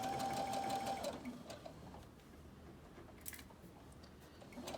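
A sewing machine stitches a long side seam with pockets at a 5/8-inch allowance. Its motor whirs loudly for the first second or so, then settles into a quieter, steady running hum.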